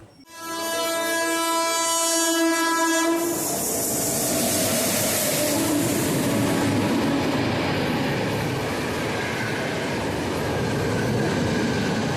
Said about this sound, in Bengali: লোকাল ট্রেন দাঁড়িয়ে রয়েছে যেটা একদম নিউ একদম নিউ আইসিএফ রেক রয়েছে